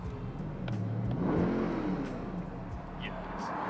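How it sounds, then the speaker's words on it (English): Porsche GT3 RS exhaust note heard from inside the car as it accelerates, a steady rising engine drone running throughout with a voice talking over it. "this has the added theatre of that exhaust right there, which actually sounds pretty nice"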